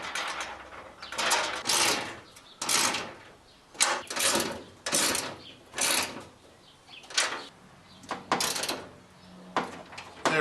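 Bolts and washers being tightened on an old bulkhead of a MirroCraft boat, heard as a run of repeated clicking, scraping ratchet-like bursts, close and fairly loud, with short pauses between strokes and no talking.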